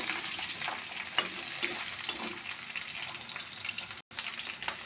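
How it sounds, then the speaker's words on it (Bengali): Potatoes fry with salt and turmeric for a Bengali dal bora curry, a moderate steady sizzle with occasional stirring clinks and scrapes, briefly cut off near the end. "আলুটা একটুখানি ভাজা ভাজা করবো নুন হলুদ দিয়ে।"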